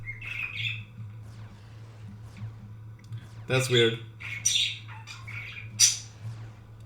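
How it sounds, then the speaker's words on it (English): Bird squawks and chirps from the Entropia Universe game world, several sharp bright calls in the second half over a steady low hum, with a person talking in between. "There's only one bird that's making that noise."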